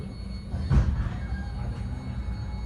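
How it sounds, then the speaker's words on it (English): Caltrain 149, a northbound local commuter train, rumbles in as it arrives, a steady low roar with a brief louder thump and faint squeal over the track noise. "Here comes Caltrain 149. That is a northbound local train"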